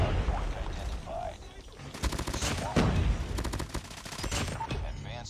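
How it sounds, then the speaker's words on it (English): A Type 25 long-range gun fires in a shooter game, rapid sharp bursts of automatic shots in quick clusters, with a player talking in between. "I'm gonna swap to the Type 25 long range gun."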